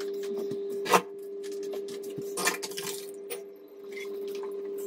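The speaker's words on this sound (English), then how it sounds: "I'm going to strain them off." Water from boiled potatoes pours and splashes into a colander, with a few sharp metallic clatters and a soft, steady rush running throughout.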